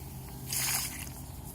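A small amount of water is poured onto a 1999 Mercedes CL500 with a leak, giving a brief soft splashing, trickling burst at close range over a quiet background hum.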